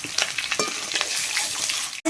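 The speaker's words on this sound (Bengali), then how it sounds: "ডিমের পুর ভরা পেঁয়াজগুলো সব লাল লাল করে ভাজা হয়ে গেছে" Large onions stuffed with egg filling fry in plenty of oil, a busy crackling sizzle broken by scraping stirs and clinks before it cuts off abruptly.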